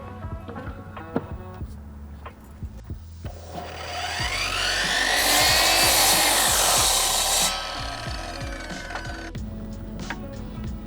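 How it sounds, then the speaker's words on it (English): A cut-off miter saw running on a Bluetti EB150 portable power station cuts through wood, a loud rising whine and grinding rasp swelling for a few seconds mid-clip, with quieter handling knocks before and after. "A cut-off saw or miter saw, whatever you want to call it, definitely is more than what this unit can handle."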